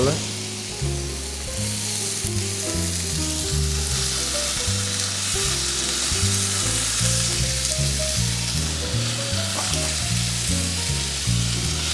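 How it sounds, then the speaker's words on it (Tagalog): Chicken satay grills on a hot, lightly oiled griddle with a steady, close sizzle that runs the whole time, while a melodic music bed plays underneath. "So, I'm using my griddle and then dito ko yan iihaw."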